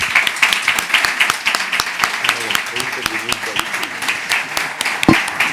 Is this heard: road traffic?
no